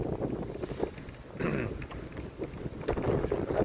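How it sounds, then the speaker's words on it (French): Outdoor wind buffets the microphone near the water at night, a rough low rumble swelling and easing in gusts, with faint splashing and knocking sounds around it. "je parle plus fort parce qu'il y a du vent"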